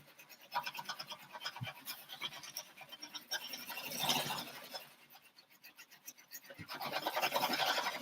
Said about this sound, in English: Just trimming this Mickey dot.